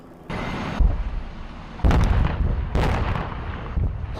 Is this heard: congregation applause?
no